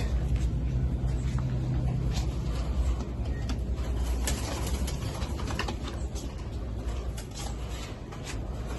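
Highflying pigeons coo steadily at close range over a continuous noisy background, their soft calls blending into the rumble without any talk.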